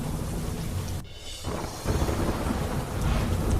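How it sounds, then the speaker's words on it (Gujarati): A heavy downpour falls over Amreli city in Gujarat, a thick, steady wash of rain noise interrupted by one short gap early on, then rolling on loudly without any speech. "અમરેલી શહેરમાં પણ વરસ્યો ધોધમાર વરસાદ"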